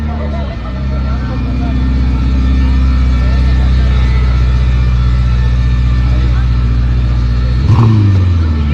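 A Ferrari SF90 supercar accelerating past on a hot day in Monaco, a loud sustained engine rumble that holds steady, then swells with a brief rev near the end, under a speaking voice.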